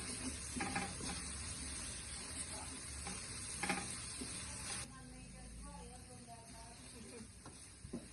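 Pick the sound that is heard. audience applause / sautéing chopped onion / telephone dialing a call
sautéing chopped onion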